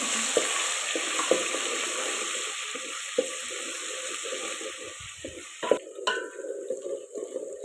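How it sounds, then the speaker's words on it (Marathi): Ground masala paste fries in plenty of hot oil for a village-style mutton curry cooked over a wood-fired stove, giving a loud, steady sizzle with repeated scraping stirs and a clatter of utensils near the end. "तेल मस्त असं तापलेलं आहे वाटण वाटलेलं होतं ना ती फोडणीला टाकून"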